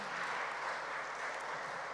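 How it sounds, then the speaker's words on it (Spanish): Church congregation applauding during a sermon, a soft, distant, even patter of many hands clapping without a break. "sí, un aplauso, ¿cierto? 1000 aplausos"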